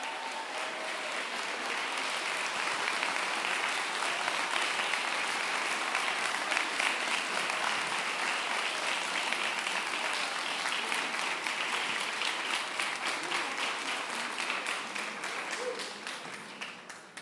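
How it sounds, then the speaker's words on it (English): A debate audience applauds the candidates, sustained, even clapping from a full room that carries on for over fifteen seconds before tapering off at the end. "can we just get a round of applause for our candidates for CD11?"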